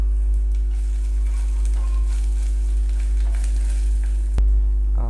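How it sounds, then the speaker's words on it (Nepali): Turmeric, cumin and coriander powder fry in hot oil for a Nepali tomato pickle, giving a steady close sizzle with faint stirring scrapes over a low hum. "यसमा चाहिँ मसलाहरू हल्का भुटिसकेको छ, धेरै भुट्नु पनि पर्दैन।"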